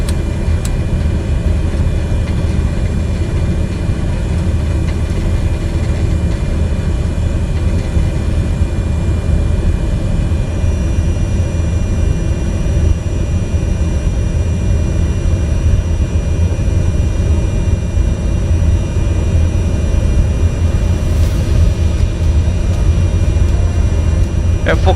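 Aircraft touching down in Microsoft Flight Simulator on a runway in Mozambique, a steady loud engine and rolling roar lasting throughout, with a voice talking over it.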